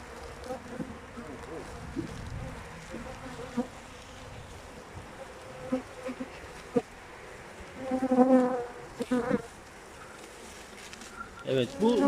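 Dense, steady buzzing of many honey bees around a hive, with a few louder close passes and brief rustling near the end.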